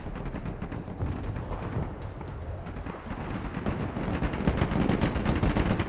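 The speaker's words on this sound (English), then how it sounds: "Mortar ready, sir. Call for fire received." Mortar and gunfire rumble through a battle in the video game Broken Arrow, a dense, continuous wash of blasts and shots that grows slightly heavier toward the end.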